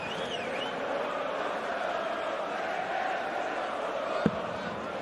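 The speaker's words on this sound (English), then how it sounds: "Again, listen to that crowd." Darts arena crowd at a Premier League night in Manchester, a steady dense roar of cheering and chanting, with a sharp thud standing out near the end.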